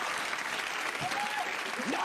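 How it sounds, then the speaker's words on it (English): An audience applauds at a comedy show, a dense wash of clapping heard alone for about two seconds. "Don't applaud it."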